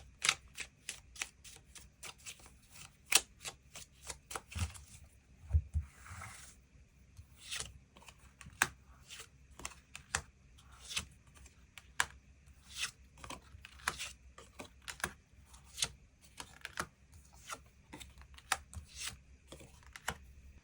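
Tarot cards are shuffled and laid down in a steady run of crisp slaps and riffles, close and fairly quiet with no talking.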